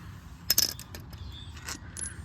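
A ratchet loosens the top starter bolt on a 2018 Chevy Equinox 2.0 turbo, giving a sharp metallic crack as the bolt breaks free, then a few softer clicks and clanks of tool and metal, close by with no talk.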